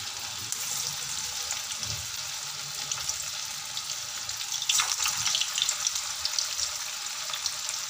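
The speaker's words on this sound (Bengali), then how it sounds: "এবার বড়াগুলো একে একে তেলের মধ্যে দিয়ে দেব।" Medu vada batter dropped into hot oil sizzles and crackles steadily up close, a continuous frying hiss that swells midway as more pieces go in.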